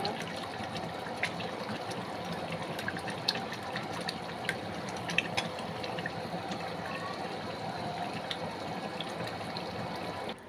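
Tap water runs steadily while raw chicken is washed in a kitchen, a faint continuous splashing trickle with small scattered clinks over a quiet background.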